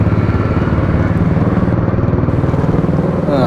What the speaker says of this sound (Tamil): அந்த புல்லட் சவுண்டை கேளுங்களேன்